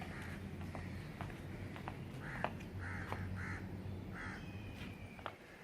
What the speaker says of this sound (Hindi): ये कौवा, ये आया, ये आया।